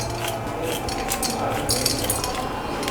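The back of a spoon scrapes seeds out of split green chillies for stuffed mirchi bajji, a busy run of light metallic scratching and clinking against a plate, close and steady throughout.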